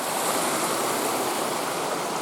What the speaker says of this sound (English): I just wanted to show you this waterfall